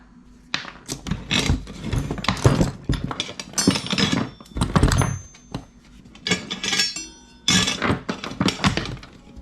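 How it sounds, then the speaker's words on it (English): A metal punch is struck repeatedly against a mini bike chain pin, giving a series of sharp, loud clanking hits in irregular bursts, close up, with no talk. "So I will take my punch and smack it one more time"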